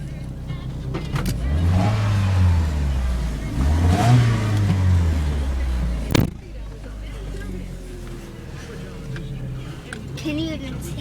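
A project car with a modified exhaust, still on hubcaps, revs up close in repeated climbing and falling bursts, then gives a sharp pop before settling into a lower idle, with people talking around it.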